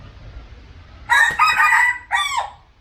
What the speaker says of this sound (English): there's some roosters in a cage